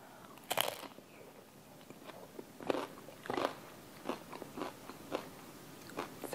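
Someone bites into fragile, crispy wonton cups made to hold taco filling. Sharp, close crunches come one after another at irregular intervals, with quieter crackles between them.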